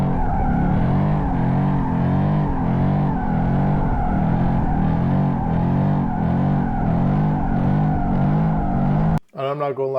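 A Mustang GT spins donuts with a steady, loud engine roar and continuous tire squeal, its wavering pitch rising and falling in a repeating rhythm for about nine seconds before cutting off abruptly.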